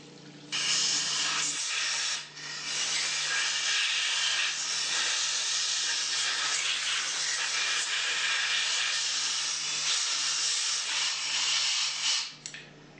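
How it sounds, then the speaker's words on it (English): Compressed air blasts solvent out of the crankcase of a Hypro 9910-D403 diaphragm pump, a loud steady hiss lasting about twelve seconds with brief dips, close and unaccompanied by speech. "then blow out any solvent that may be left in the crankcase"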